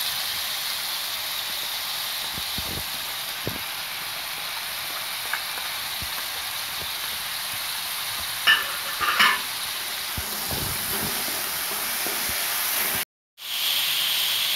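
Spices for a mixed bean chaat frying in a pan, a constant bright hiss with occasional faint stirring taps and a couple of louder scrapes, cut briefly to silence near the end.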